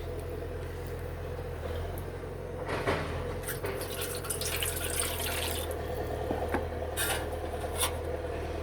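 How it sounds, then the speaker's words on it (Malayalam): Water is poured into a pan of roasted-coconut fish curry in a kitchen, with a few short splashy pours over a steady low background hum and no talking. "ശകലം കൂടി വെള്ളം ഒഴിക്കാം"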